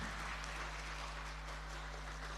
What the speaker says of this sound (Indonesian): Kita beri aplaus untuk semua.